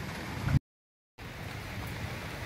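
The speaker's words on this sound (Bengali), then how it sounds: "এই দেখো বৃষ্টি হচ্ছে" Steady rain falls in a village, a dense, even hiss at moderate level that cuts out completely for about half a second partway through and then returns unchanged.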